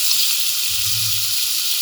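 Onions and spices sizzle and fry steadily in a hot pan, a constant bright hiss with a soft low rumble of stirring in the middle.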